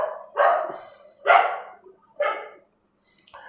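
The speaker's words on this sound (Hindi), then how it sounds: "कुत्ते भौंक रहे हैं थोड़ा सा।" Dogs bark three times in a row, close and clear, each bark a sharp burst with a short decay, followed by a fainter bark at the end, with no other sounds around them.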